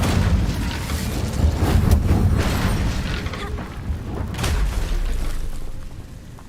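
A fire spell, Incendio, is cast in the video game Hogwarts Legacy, giving a sustained roaring burst of flame with a second whooshing flare near the end, loud and continuous with no talk.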